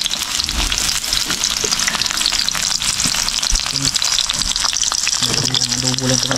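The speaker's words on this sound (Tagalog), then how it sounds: "Tapos tutuin na natin yung adobo." Pork adobo, boiled beforehand, frying in a pan with a steady, dense sizzle and occasional stirring scrapes throughout, close and loud, with faint tonal background sounds near the end.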